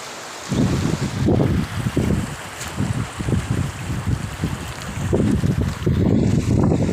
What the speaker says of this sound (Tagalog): Mahangin na kasi, malamig.